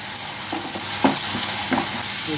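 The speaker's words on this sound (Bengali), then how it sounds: "পেস্ট দিয়ে আমরা ভালোভাবে নেড়ে নেব যেন আদা রসুনটা ভাজা হয়ে যায়" Ginger garlic paste stirred into frying onions in a pan for chicken makhani, a steady sizzle with a few scraping stirs of a spoon close by, no voices.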